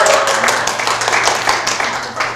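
Audience clapping for a quiz winner at a prize giveaway, a dense burst of many hands heard close and fairly loud, with a steady low hum beneath and a faint voice at the start.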